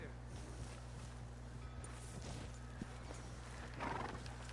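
A horse in the Red Dead Redemption 2 video game whinnies and snorts faintly over a steady low background hum, with a few soft hoof steps and a brief louder burst near the end.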